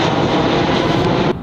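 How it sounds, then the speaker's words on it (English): A low-flying airplane passes over near an airport, a loud, broad engine roar that fills the short moment and then drops off sharply. "I live by an airport, so airplanes fly constantly. Look how low this guy lives."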